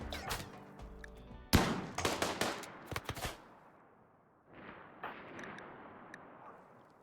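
Gunfire in the video game RimWorld cracks out in sharp bursts, from single shots to rapid clusters, with a loud volley early on, then fades into quieter echoing shots and a low rumble.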